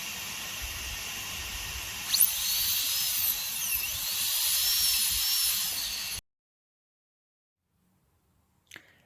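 A dental drill burr cuts the access cavity of a lower molar, a loud, steady high-pitched whine lasting about six seconds, then near silence broken by one brief faint tick.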